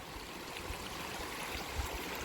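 A mountain stream in the hills near Bromo, Probolinggo, with its water partly diverted by hoses, flows steadily with a soft continuous wash and faint trickling, close by and alone, with no voices.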